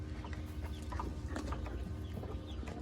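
Black American Silkie chickens on a hobby farm cluck softly in a continuous low murmur, with scattered short calls over a steady background hum and no voices.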